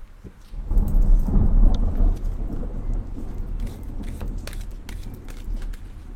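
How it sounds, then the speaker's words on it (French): Heavy rumbling thunder rolls in after a lightning flash during a storm, loud and sustained at first, then fading into steady rain with scattered pattering drops. "il y a eu un éclair"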